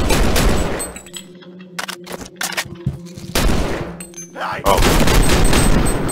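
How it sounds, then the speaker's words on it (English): Loud bursts of automatic gunfire from a weapon in the shooter game Leaden Sky, with rapid rattling volleys at the start and end and scattered single shots in between, while one voice briefly calls out. "I feel like there's an automatic mode on this gun."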